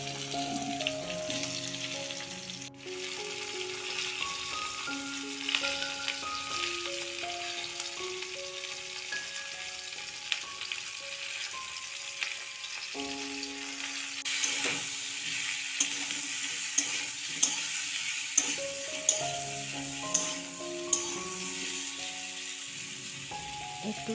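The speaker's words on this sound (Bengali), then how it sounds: "এবার এই কড়াইতে এই সবজিগুলোকে একটু নুন হলুদ দিয়ে ভেজে নেব হালকা করে" Cauliflower, carrot and potato frying lightly with salt and turmeric in a wok, a soft continuous sizzle with occasional stirring scrapes and taps, under background music.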